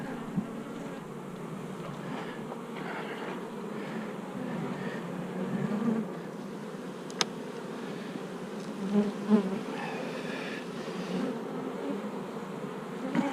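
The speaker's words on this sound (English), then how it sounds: "We got tons of bees here, see?" Honeybees swarming over a hive frame, a dense continuous buzz close by with individual bees droning past, steady throughout with a sharp click partway.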